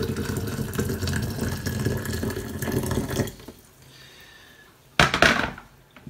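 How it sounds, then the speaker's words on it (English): Hot water pours steadily from a tap into a container, a close continuous gushing rush that stops abruptly, followed by a brief second splash of flow. "the first thing we're going to do is add our hot water"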